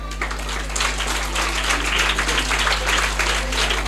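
Steady applause fills a school end-of-year party, many hands clapping together in a dense, sustained patter over a constant low electrical hum.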